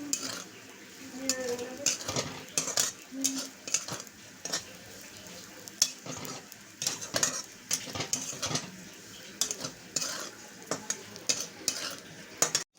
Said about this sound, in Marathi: बोंबील चांगले भाजलेले आता आपण काढून घेऊया